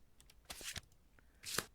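A deck of playing cards being shuffled at a tabletop game of Kingdom Death, with a few quick riffling bursts and a sharper final flurry, close and quiet with no talk.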